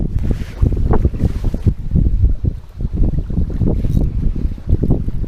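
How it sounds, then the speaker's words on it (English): Strong wind buffets the microphone beside Newcastle Reservoir in November, a loud continuous rumbling roar with gusts rising and falling throughout, no talk over it. "In this wind."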